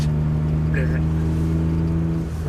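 Kei car with a snapped exhaust running as an open dump pipe, engine droning loud and steady from inside the cabin, with people talking over it.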